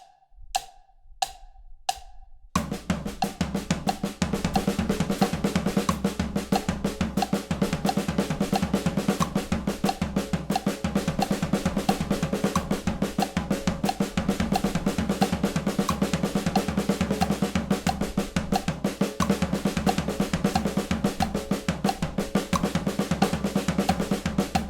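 A drum kit plays sixteenths and sixteenth-note triplets grouped in five-note cycles, a dense, fast, continuous pattern of hits after a few sparse count-in clicks, loud and close with no speech.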